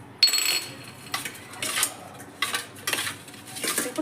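Potatoes and eggs being mixed by hand with salt and turmeric in a dish, giving several clinking, scraping bursts of utensil against the dish, close and moderately loud, with no talk.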